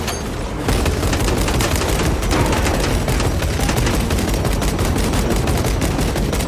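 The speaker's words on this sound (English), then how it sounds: "But for this being a heavy bolter, these Chaos Marines are able to sustain a lot of freaking damage." A heavy bolter in Warhammer 40K Space Marine 2 pours out continuous rapid, dense gunfire against Chaos Marines, loud and close, with booming impacts layered through the sustained barrage.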